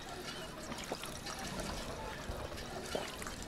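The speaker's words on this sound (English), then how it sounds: "Drink from our nice water pump." In the Fallout 4 video game, drinking from a water pump in a survival-mode settlement gives a short, fairly quiet stretch of splashing, trickling water.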